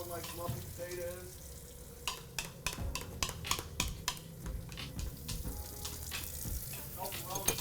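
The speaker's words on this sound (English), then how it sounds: "You getting a workout mashing potatoes?" Potatoes being mashed in a pan, with a run of sharp, irregular thumps and scrapes of the masher against the pan, close and fairly loud, while voices chat around them.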